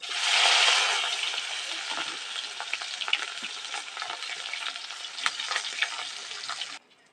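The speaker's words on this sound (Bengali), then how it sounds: "দেখো এইভাবে বাকি সেম মাছগুলো আমি ভেজে নেবো" Pieces of 500-gram hilsa fish wrapped in gourd leaves fry in a pan over a clay stove, giving a dense, steady sizzle with scattered crackles and pops that holds close and even, then cuts off abruptly near the end.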